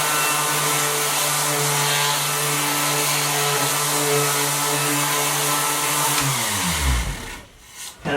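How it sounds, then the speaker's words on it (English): A random orbit sander runs steadily on wooden boards at a workbench, a loud constant whine that winds down to a stop near the end, with no speech. "Take my random orbit sander."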